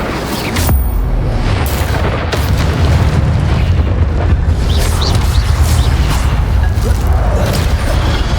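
Incendio fire spell cast in the Hogwarts Legacy video game, a loud, sustained roaring burst of flame with booming, crackling bursts that fill the whole stretch without pause.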